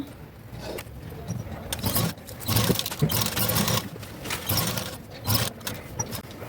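A sewing machine stitches the neck of a blouse, running in loud, steady bursts of whirring with brief pauses between runs.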